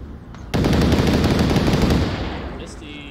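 Automatic rifle fire rips out in the VR shooter Onward, a sustained rapid burst of close, loud shots that begins sharply and rattles for about a second and a half before tapering into echoing tail.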